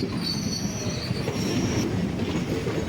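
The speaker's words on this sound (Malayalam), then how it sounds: "ഇതേ ഒരു ട്രെയിൻ പോകുന്നുണ്ടോ ഇത് നമ്മുടെ കാരൈക്കൽ എക്സ്പ്രസ്സാണ്" The Karaikal Express rushes past close by, its wheels squealing high and thin over a heavy rumbling roll along the rails.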